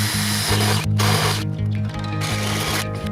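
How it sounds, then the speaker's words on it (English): A power drill bores holes in a metal template for a BMW engine swap, a loud, continuous whine close by with brief pauses and restarts. "Now I need to drill the holes in."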